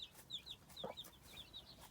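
Baby chicks peeping in soft high chirps around a hen's low clucking among garden salad greens, faint and fairly distant, no talk.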